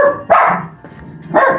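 Dogs barking in a home kitchen: two loud, close bark bursts separated by a short pause, with lower yips and whimpers in between.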